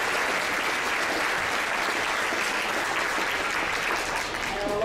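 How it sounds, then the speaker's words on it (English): Sustained applause from an audience at a school band parade for 5th to 12th graders, a dense, loud wash of clapping that continues evenly throughout without any voices over it. "So a big round of applause for them."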